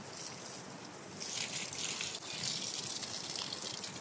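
Water gushes from a cut hose outdoors in a faint, steady rush that swells a little louder after the first second and keeps flowing.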